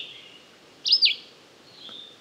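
Wild bird picked up through a parabolic microphone giving a single short two-note chirp, clear and close-sounding over a faint, steady background hiss.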